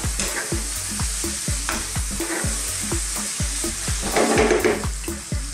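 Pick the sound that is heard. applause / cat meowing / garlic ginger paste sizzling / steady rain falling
garlic ginger paste sizzling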